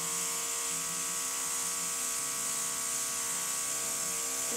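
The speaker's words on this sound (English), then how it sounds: "I will airbrush over the top, keeping the airbrush moving in nice circular movements" A makeup airbrush sprays foundation in a steady, even hiss with a soft motor buzz underneath, close and unbroken throughout.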